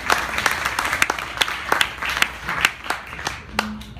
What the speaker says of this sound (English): So let's give them a round of applause on that.